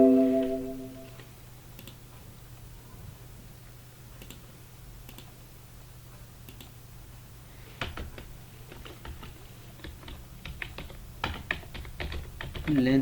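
Keys tapped on a computer keyboard, sparse single clicks at first, then quicker irregular bursts of typing close by over a low steady background hum.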